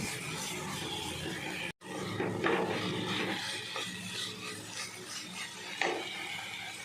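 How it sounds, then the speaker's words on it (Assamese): Water is poured into a pot of vegetable curry being cooked, making a steady, rushing, hissing roar that continues close and loud for several seconds, with a brief drop in the middle. No voices are heard. "এয়া মই ইয়াতে পানী দি দিলোঁ আৰু আঞ্জাখন মই ভালদৰে উতলিব দিম।"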